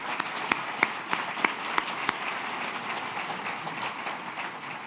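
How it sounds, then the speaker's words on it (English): At a welcome lunch, a round of applause rises from a moderate crowd, with a few sharp, distinct claps standing out early over the steady patter before it fades slightly. "can we just have a round of applause?"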